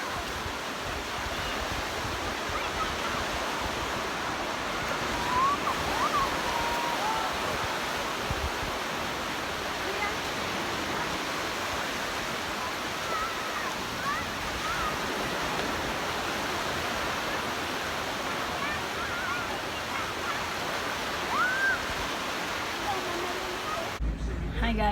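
Ocean waves crash and surge without pause against a Hong Kong shore at a big-wave beach, a loud broad roar of surf with wind, and faint distant voices now and then.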